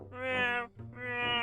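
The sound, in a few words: imitated cat meowing like a broken swing set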